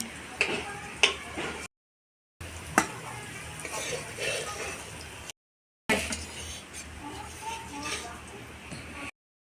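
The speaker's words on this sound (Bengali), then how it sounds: "এই যে পনিরগুলো ভাজে নিলাম।" Paneer frying in oil in a wok, a soft crackling sizzle running steadily with occasional stirring clicks, broken by short gaps, close by.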